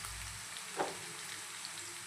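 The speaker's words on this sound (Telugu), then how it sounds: "మనం ఏదైతే రెడీ చేసుకున్నామో వంకాయలను కూడా ఇందులోనే వేసేసుకొని ఆయిల్లో కొంచెం మగ్గాలన్నమాట." Eggplants fry in hot oil in a pan with a steady, soft, continuous sizzle and one faint clink partway through.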